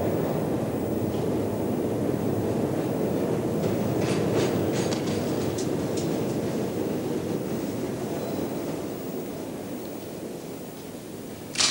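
A subway train rumbles steadily with a low roar and faint rattling, loud and close throughout, fading slightly near the end.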